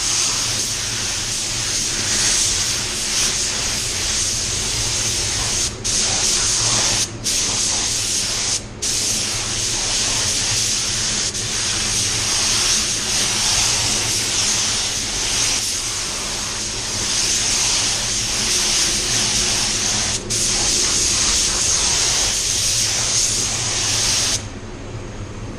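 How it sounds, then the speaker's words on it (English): Spray gun applying PPG waterbase clear coat to tail lights at about 30 psi, a loud steady hiss running continuously for about 24 seconds with a few brief breaks where the trigger releases, then stopping near the end. "Spraying at 30 pounds"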